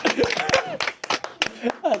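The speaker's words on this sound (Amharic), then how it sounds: "እሺ አጨብጭቡ ጉባኤዎች።" A wedding congregation claps at a church ceremony after the vows, scattered hand claps mixed with chuckles, laughter and overlapping voices, fairly close and lively.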